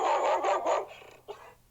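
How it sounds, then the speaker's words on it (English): A recorded dog bark plays from the speaker of a Maximus floodlight security camera, several quick, fairly loud barks with a slightly tinny tone, then a short trailing yelp. "there's the sound of a barking dog."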